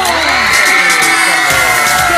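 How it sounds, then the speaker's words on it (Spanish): A studio audience at a Spanish-language afternoon television dance show cheers and whoops loudly, a dense, close crowd roar with high shouts and applause. "Vamos a un fuerte aplauso a Martín Terrone"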